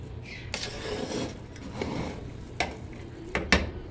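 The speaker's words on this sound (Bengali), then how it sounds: "দেখেন এখন একটু নাড়াচাড়া করে দিই শেষবারের মতো।" Biryani in a pot is stirred one last time, with scraping spoon-on-metal sounds, a few knocks and clinks of utensil against the pot, and a faint sizzle underneath, close and moderately loud.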